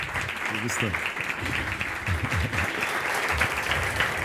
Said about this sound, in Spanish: pido un fuerte aplauso para el invitado de esta noche, el señor Carlos Pérez Huartambel.